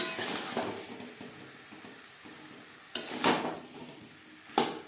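Cauliflower and boiled potato are stirred in a pan over high to medium flame, a few close metallic scrapes and knocks breaking through quieter stretches of faint sizzling.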